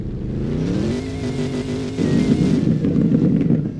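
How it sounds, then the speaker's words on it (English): A loud car at a car meet revs hard, first holding a steady rising note, then breaking into a rougher, harder roar with wind buffeting the microphone. "This car is loud."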